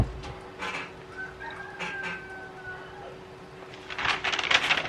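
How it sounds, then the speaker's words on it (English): Rooster crowing and clucking in a workshop at night, somewhat distant and moderately quiet, with short clucks and a drawn-out crow over a steady low hum. "I just woke up the rooster."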